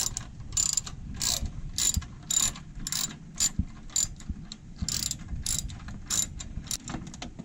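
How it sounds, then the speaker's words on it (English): A 10 mm hand ratchet loosens a brace bolt on a Kia Sedona during a cooling fan replacement, its pawl clicking in quick repeated bursts with short pauses, close and clear with no talking. "Here I am with my 10 millimeter ratchet, and I'm going to get up in that hole there and just loosen that."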